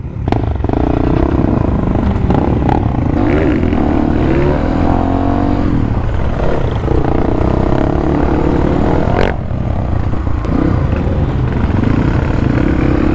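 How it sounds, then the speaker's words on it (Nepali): A dirt bike engine running steadily after starting on a trail ride in Nepal, a loud continuous close drone that rises and falls with throttle, with a brief clunk near the end and no voices. "बाइक चाहिँ सुरु भयो"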